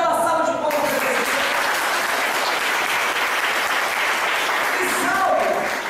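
A congregation at a weekly church meeting bursts into a round of applause for Jesus, dense clapping from many people, with brief voices audible at the start and near the end.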